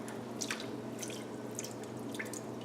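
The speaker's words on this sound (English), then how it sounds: "we're going to drain them into the colander" Water draining from cooked navy beans poured into a colander in a home kitchen, heard as scattered dripping and splashing patters that come close and clear over a low steady hum.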